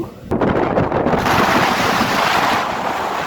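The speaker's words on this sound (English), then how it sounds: "It's so windy here, guys." Strong wind buffets the microphone on an exposed hilltop near a Victorian suspension bridge over a 100-metre waterfall drop, a loud, steady roar that builds quickly and holds throughout with no talking.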